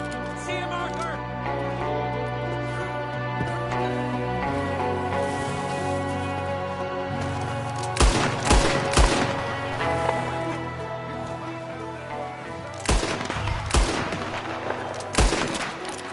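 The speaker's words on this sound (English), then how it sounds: "That's my boy, Arthur. Good shooting" Gunfire in the video game Red Dead Redemption 2 crackles as sharp single shots and quick clustered volleys over a sustained musical score, with some game voices mixed in.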